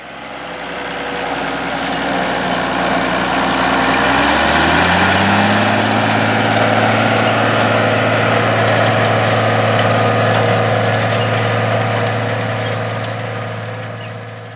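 An International 966 tractor, its cab insulated to dampen the noise, drives across a field pulling a John Deere 7240 planter. Its diesel engine drones loud and close, and the pitch drops and settles midway into a steady rumble.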